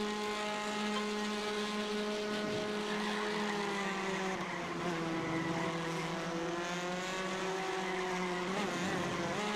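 Race car engines in the iRacing sim game drone loudly and constantly, with harmonic tones shifting in pitch as the cars run close in a slipstream.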